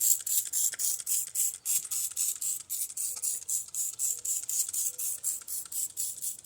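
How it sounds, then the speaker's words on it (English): Jack's Wax interior cleaner is sprayed onto a dirty car interior back piece in a rapid run of short, hissing pulses, close and evenly repeated throughout. "I'm going to use Jack's Wax Interior Cleaner on the back piece here."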